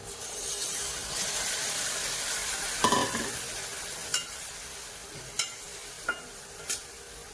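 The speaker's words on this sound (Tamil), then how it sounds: "திரும்ப ஒரு 5 நிமிஷம் எண்ணெயிலே வதக்குனதுக்கு பிறகு இதில் நான் புளிக்கரைசல் ஊற்றிக்கிறேன்" Small onions sautéing in oil hiss steadily until tamarind water goes in, setting off a brief louder burst of hissing. A few sharp, spaced stirring clicks follow as the sizzle dies down, with no talking.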